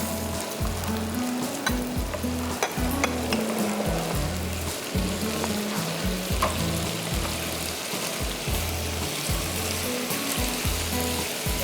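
Masala for chicken sajji sizzles loudly in hot oil in a pan while a spoon stirs and knocks against the metal in a steady, uneven rhythm, close and continuous.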